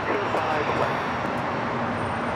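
An Alaska Airlines Boeing 737-800 takes off at LAX, a steady broadband jet roar that stays loud and even throughout, with a faint murmur of voices in the background.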